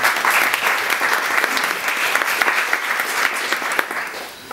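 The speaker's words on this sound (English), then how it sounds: "just another round of applause for Maria as well" An audience at a book launch applauds, a dense, loud burst of many hands clapping together that holds steady before tapering slightly at the end.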